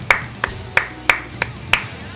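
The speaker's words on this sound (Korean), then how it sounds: "노가리님께도 박수 한 번씩." Six sharp hand claps in a slow, even rhythm, close and crisp, with no voices, during a Naruto Storm 4 game league match broadcast.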